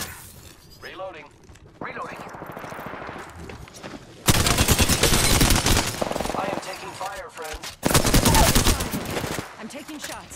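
Video game gunfire, with scattered shots and then two long, loud automatic bursts of rapid fire separated by a quieter gap, along with voices.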